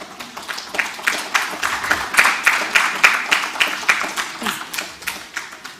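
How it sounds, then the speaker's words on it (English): Audience at a tech round-table panel clapping for a guest, a run of brisk, evenly spaced claps building and then thinning out over several seconds, fairly close and clear. "please give me a huge round of applause for our guest today, Ms. Vanita Aggarwal"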